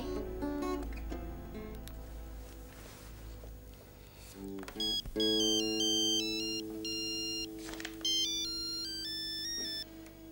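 A mobile phone ringtone plays a steady electronic melody of bright repeating tones, moderately loud and alone, continuing for about ten seconds without talk.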